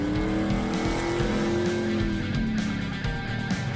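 1968 Plymouth Roadrunner with a 383 V8 making 335 horsepower, steady engine drone with tire noise while driving, loud and continuous, no one speaking.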